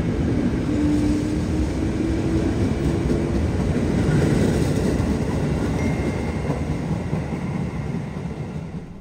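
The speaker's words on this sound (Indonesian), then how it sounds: "Ada kereta yang baru berangkat gitu biasanya ya dari arah Gambir." An Argo Cheribon executive-class train at Jakarta's Gambir station pulls away with a steady, loud low rumble of rolling wagons, a faint squeal or tone drifting over it and the noise easing slightly toward the end.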